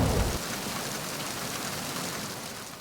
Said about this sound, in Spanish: Y con la lluvia de fondo relaja un montón.